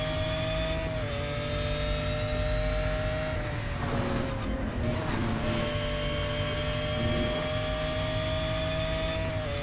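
A Ferrari F40 racing at a classic Ferrari track in a video game, its engine a steady, loud, close drone with slight pitch dips as it shifts, sustained throughout.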